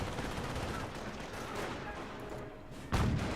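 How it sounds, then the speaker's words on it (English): An infantry half-track's mounted gun fires in Company of Heroes, a dense, continuous stream of rapid gunfire followed by a sharper, louder burst near the end. "the infantry half-track is still firing away"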